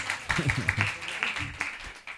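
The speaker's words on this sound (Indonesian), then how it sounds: "tepuk tangan." Brief audience applause at a cultural religious gathering, a short scattering of claps that rises and fades quickly, mixed with faint murmuring voices.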